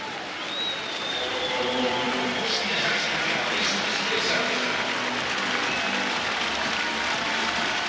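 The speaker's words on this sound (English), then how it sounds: "Milk every last ounce of applause out of this terrific 4x100 meter relay performance." A stadium crowd at the 2016 European Athletics Championships applauds a 4x100 meter relay team, a broad, sustained roar of clapping and cheering that holds steady from start to finish.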